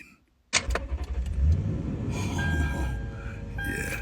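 A truck engine cranks and catches after a quiet moment, then settles into a close, rumbling idle with brief jangling and clicks in the cab.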